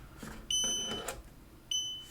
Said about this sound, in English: you can hear the beeps